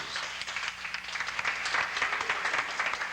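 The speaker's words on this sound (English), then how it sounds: "The cast and crew break into applause" A film cast and crew break into applause on set after a stunt finally works, a continuous crowd clapping that swells slightly toward the end.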